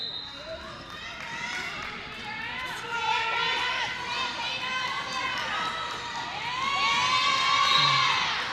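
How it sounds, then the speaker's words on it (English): An arena crowd at a roller derby bout cheers and applauds loudly throughout, a dense, sustained roar of many voices and clapping that swells toward the end. "To thunderous applause from those here in the arena"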